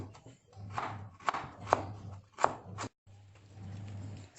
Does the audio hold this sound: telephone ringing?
no